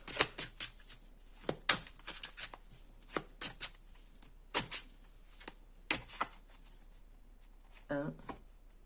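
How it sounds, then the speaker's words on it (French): Tarot cards are shuffled in uneven bursts of crisp, close riffling and slapping, with short pauses between, before a brief voice near the end. "Je mélange et je prends la deuxième carte"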